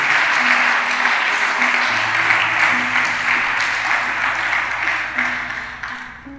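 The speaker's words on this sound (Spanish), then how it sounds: "Denle un aplauso al Señor si usted cree eso." A church congregation applauds during a Spanish-language service, a dense, steady clatter of many hands filling the room and tapering off toward the end, with some voices and cheers mixed in.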